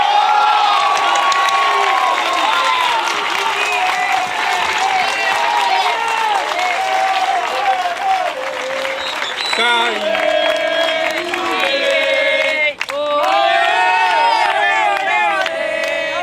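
A crowd at an open economics class applauds and cheers for a candidate, a loud, steady roar of clapping with whoops and shouting voices running the whole way through.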